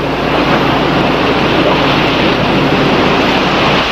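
Rough sea with high, hard waves crashing, a dense continuous roar of surf and rushing water, loud and close with no pauses and no voices.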